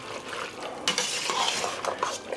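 A spoon stirs beef stroganoff inside an Instant Pot, producing scraping and clinking of utensil against the metal pot with soft moist churning, close and continuous over a couple of seconds.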